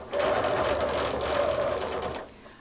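A sewing machine stitches steadily for about two seconds as a quilting ruler is guided beside the darning foot, a close, continuous mechanical whir that stops abruptly.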